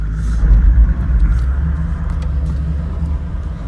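A car engine labours up a hill in first gear, a heavy low rumble that swells early, then settles into a steady, close drone.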